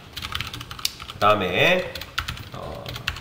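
Close, fast typing on a computer keyboard while C code is written, with a quick clatter of keys running through the clip under a short bit of speech.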